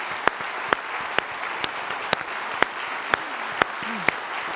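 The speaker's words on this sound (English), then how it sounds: "A huge round of applause" An audience at the 2018 National Geographic Bee final competition applauds departing quiz finalists: a steady, moderately loud wash of clapping with sharp, evenly spaced claps standing out.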